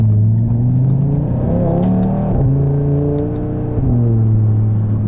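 A 2019 Audi RS3 with APR Stage 1 tune and AWE exhaust accelerates hard on back roads, its loud, close engine note climbing through revs with brief dips at gear changes, no voices.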